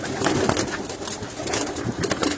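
Green pigeons coo steadily at close range, overlapping soft calls from several birds in a pair-filled loft, with no voices.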